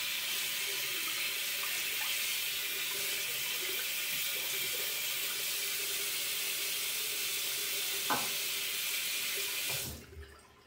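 A Razorock Gamechanger 0.68 safety razor rinsed under a running tap: a continuous, fairly loud stream of water with a few knocks against the sink, cutting off just before the end.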